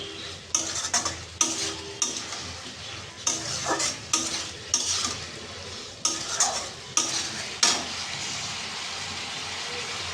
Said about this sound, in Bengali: যে আলুটা ভেজে রেখেছিলাম সেটা আমি না দিয়ে দিচ্ছি তাহলে এটার মধ্যেও আলুটার মধ্যেও মশলাটা মাখা হয়ে যাবে আলু আর মাংসটা ভালো করে কষাও হয়ে যাবে